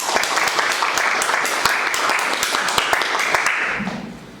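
Audience applause fills a hall at a Korean economic leadership forum after a lawmaker's address, steady dense clapping with a few sharp louder claps, tapering off at the end.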